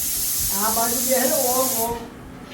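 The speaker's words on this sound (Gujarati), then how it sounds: "હવે બિલાડા લડાવે છે વંશુ બેઠો." Cats fight close by, a harsh, continuous hiss running under a wavering, drawn-out yowl before the sound cuts away.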